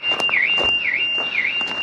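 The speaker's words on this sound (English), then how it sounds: "Thank you to that car alarm." A car alarm sounds nearby on a coastal path in Cornwall, a loud repeating warbling siren that cycles about three times over steady background noise, with no talking.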